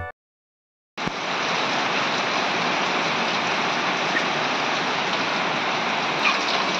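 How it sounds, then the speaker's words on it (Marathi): After a brief moment of silence, steady heavy rain starts and hisses evenly, a dense continuous downpour with no voices. "आता पाऊस यायला लागला आहे"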